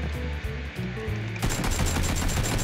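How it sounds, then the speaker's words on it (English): Rapid gunfire from the battle-royale video game PUBG, a dense burst of repeated shots that grows louder and sharper halfway through, continuing steadily with no talk. "It's a warning shot."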